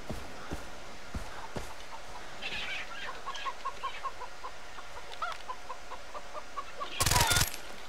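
Chickens in the Far Cry 3 video game cluck in a quick series of short, soft calls under steady game ambience, with a sharp burst of noise near the end.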